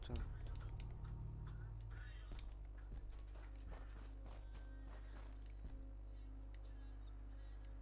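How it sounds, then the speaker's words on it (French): Footsteps from the video game Fallout 4 tread steadily beneath a low, constant game ambience, soft and fairly quiet throughout. "J'ai peur d'avoir reconnu ces bruits de pas."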